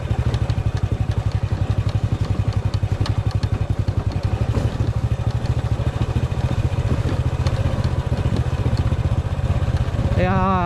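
A 12-year-old Honda motorcycle's engine chugs along at a steady, rapid thumping pulse, loud and close, on a road trip in the Philippines, with a short voice right at the end.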